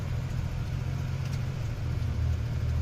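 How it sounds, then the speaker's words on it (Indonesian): A 1984 Daihatsu Hijet 1000 engine runs steadily with a low, throbbing mid-pitched hum and slight swells as it is revved lightly, close and continuous with no talk. "Kita geber-geber sedikit"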